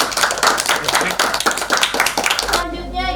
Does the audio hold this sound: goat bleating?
no